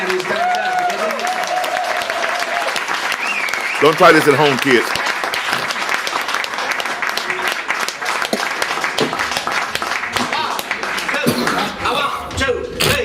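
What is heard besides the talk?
audience applause for a blues band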